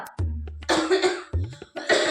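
A patient with a cold and fever gives two sharp, loud coughs close by at a doctor's, separated by a short pause, with a throaty rasp in between.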